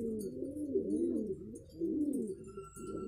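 Pigeons coo close by in soft, low, repeated rolling calls that overlap and keep going steadily, with faint chirps in the background.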